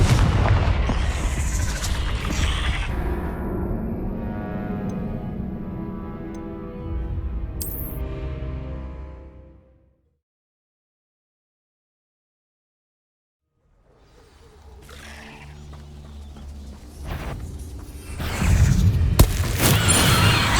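Spell explosions from the Confringo curse in the Hogwarts Legacy video game, a dense run of booming blasts and crackles that cuts to silence midway, then resumes with loud bursts near the end.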